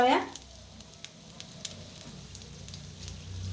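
Egg paratha frying in oil on a hot pan, cooked on both sides: a low, steady sizzle runs throughout with a few faint clicks and light scraping, fairly quiet and close.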